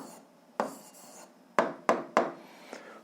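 Handwriting an algebra answer: a few quick scratchy pen strokes on paper, close and faint, in short separate bursts with quiet gaps.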